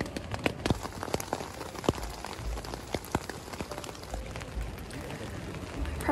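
Steady rain patters on a surface close by at a Fitz Roy base camp in Patagonia, with scattered louder drops landing irregularly throughout.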